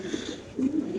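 A pair of Pakistani pigeons coo close by in short, low throaty pulses, the second phrase stronger, with no talk over them.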